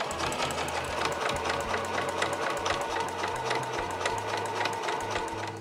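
A sewing machine stitches Marimekko cotton fabric for a tote bag, running with a loud, continuous rapid needle chatter and a low motor hum that shifts slightly in pitch, close up and without talk.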